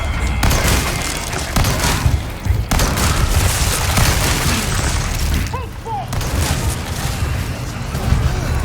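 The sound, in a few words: shotgun fire in Resident Evil 4 Remake video game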